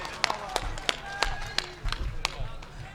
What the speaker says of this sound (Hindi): पुरजोर तालियों से शायर का इस्तकबाल कीजिए